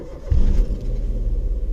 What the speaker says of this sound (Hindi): तो ये मेरी गाड़ी अभी स्टार्ट हो चुकी है।